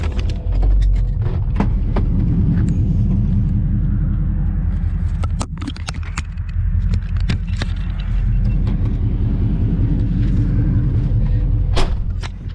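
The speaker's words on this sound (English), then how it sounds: "Got the one wheel peel" A 1968 Charger with a swapped 5.7 Hemi rumbles loudly in a one-wheel peel, a heavy low roar dotted with sharp tire chirps and cracks over about twelve seconds, close by.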